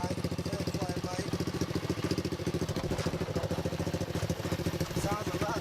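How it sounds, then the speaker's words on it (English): A pocket bike's small engine, freshly fitted with a new carburetor, runs steadily at a close, fairly quiet idle with an even rapid putter throughout. "Sounds a lot better than before, definitely. Sounds quiet. Very more quiet. New carburetor."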